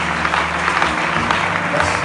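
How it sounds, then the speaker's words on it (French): Church audience applauding and acclaiming at a Christian teaching service, a dense, steady wash of clapping that fills the short stretch, with voices mixed into the crowd noise. "Encore une autre acclamation."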